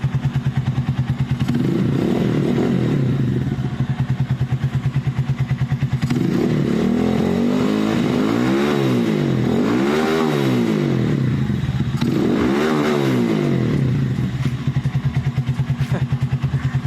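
Motorcycle engine fitted with a converted 4-pin CDI (from 6-pin), idling steadily and then revved hard several times in repeated swelling bursts, loud and close, with no talk.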